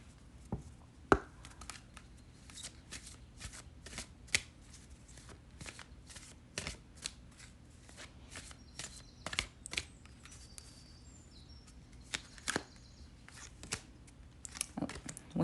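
A tarot card deck being shuffled up close, a steady run of soft riffling flicks and papery taps that keeps going with brief irregular pauses, quiet and without talking.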